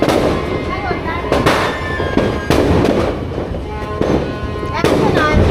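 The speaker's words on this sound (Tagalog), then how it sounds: "ito na, fireworks natin" New Year's midnight fireworks burst repeatedly in a dense, continuous barrage of crackling explosions, with several sharp loud blasts standing out and voices faintly mixed in.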